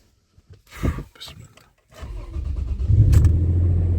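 A Toyota FJ Cruiser engine cranks and catches around the two-second mark after a fuel pressure regulator replacement, then settles into a steady, rumbling idle that grows louder; brief sounds precede it.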